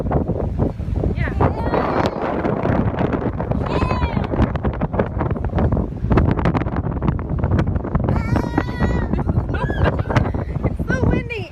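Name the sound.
strong wind blowing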